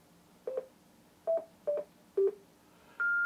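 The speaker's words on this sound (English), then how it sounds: "enter it manually using the keypad on the microphone" Keypad on a Yaesu FTM-400XD hand microphone sounds five short DTMF beeps as a frequency is entered, spaced unevenly and clear in a quiet room, the last tone held longer.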